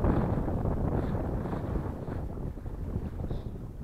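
Strong wind buffets the microphone beside a river on a cold fishing trip, a steady low roaring rumble with gusts that swell and ease throughout, no voices.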